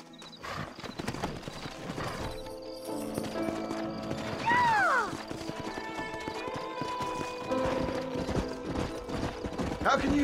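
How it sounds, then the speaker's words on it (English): Steady hooves clip-clop throughout while a horse lets out a rising and falling whinny midway, with clanking mechanical sounds in the background, in Red Dead Redemption. "Horses are over here!"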